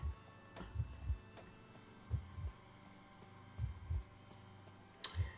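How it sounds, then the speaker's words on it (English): Steady, slow heartbeat thumps in the Identity V video game, each beat a soft double pulse, repeating roughly every one and a half seconds over a low hum with no voices. "I feel my heart beating"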